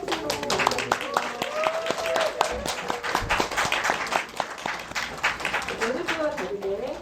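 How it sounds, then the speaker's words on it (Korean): A Korean cinema audience applauds a film director and two actresses at a screening event, with sustained clapping from the crowd mixed with voices and bright background music. "큰 박수로 맞아주세요."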